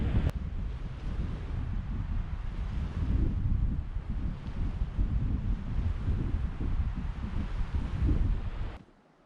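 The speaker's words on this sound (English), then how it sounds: "It's pretty windy out here." Wind gusts across a lakeshore in Yellowstone, a strong and continuous low rumble buffeting the microphone for several seconds before cutting off abruptly at the end.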